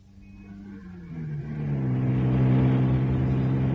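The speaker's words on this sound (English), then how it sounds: "Oh, we'll take my car." A car engine starts up and pulls away in an old radio drama, rising from a low idle into a steady, loud, revving drone that holds as the car moves off.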